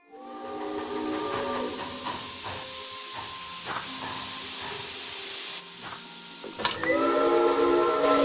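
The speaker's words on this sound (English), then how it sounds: "Those whistles mean a train with a snowplow has arrived from Broad." Steam train whistles and hissing steam from the Agatha Christie: Murder on the Orient Express video game, marking an arriving train fitted with a snowplow. A loud continuous hiss carries sustained whistle tones, and a fresh whistle blast swells near the end.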